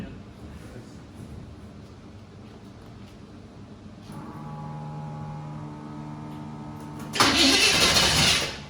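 A turbocharged 1962 Chevy engine cranks and fires up on a new distributor: quiet fumbling first, then a droning starter or idle tone that jumps to a loud, rough running roar for the last second and a half.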